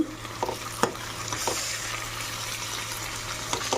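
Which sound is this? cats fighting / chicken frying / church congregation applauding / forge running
chicken frying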